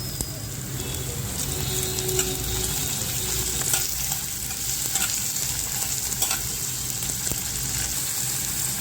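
Chopped tomatoes hit sautéing onions in a hot pan, setting off a steady, fairly loud sizzle with occasional spoon scrapes and clinks against the pan.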